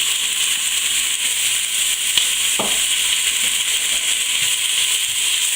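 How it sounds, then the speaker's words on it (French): Sliced onions drop into a saucepan that was used to brown diots sausages and sizzle steadily over low heat, a continuous close hiss with a few faint clicks and scrapes. "dans la casserole qui a servi de coloration au diaux, je vais mettre mes oignons que j'ai émincés"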